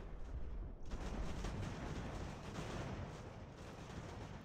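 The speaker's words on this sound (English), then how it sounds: "Our artillery is just devastating when it actually gets lands on them." Artillery fire in the Ultimate General: American Revolution strategy game, a dense continuous roar of booming cannon volleys and rumbling battlefield noise, loud and sustained with no pauses.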